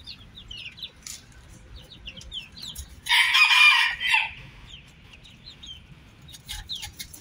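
A rooster crows once, loud and close, for about a second, with small birds chirping on and off around it and low outdoor rumble underneath; no one speaks.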